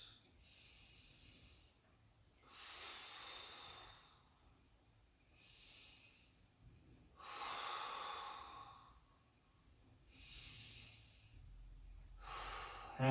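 Slow, even yoga breaths come in about five long swells, each inhale and exhale rising and fading at a steady pace, close and soft against a quiet room.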